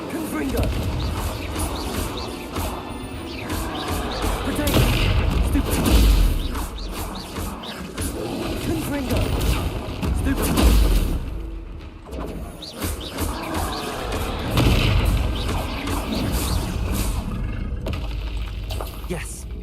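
Spell blasts from Incendio and Confringo in the video game Hogwarts Legacy, loud bursts and thumps over a dense, busy game soundscape of music and effects, repeating every few seconds.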